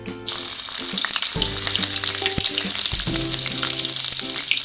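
Green chilies dropped into hot oil in a pan, a sudden loud sizzle that bursts in and keeps crackling steadily, with faint kitchen clatter and tones in the background.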